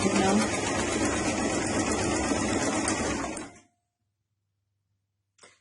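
A sewing machine runs in a steady, fast buzzing whir as it stitches blue ribbon onto a summer dress, then stops abruptly into silence, followed by a brief click.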